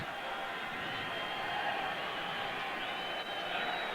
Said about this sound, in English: the crowd gets going again